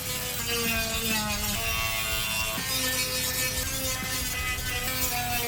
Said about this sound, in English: I begin by using the Dremel to smoothen the hard edges.